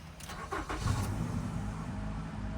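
A car engine cranks and catches, then settles into a rough, steady idle with a fault present; close by, the low rumble continues alone to the end.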